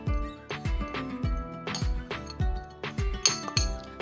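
A spoon or utensil clinks sharply against a dish or jar while ground mustard seeds are mixed into ingredients, giving a steady series of close, bright taps roughly twice a second.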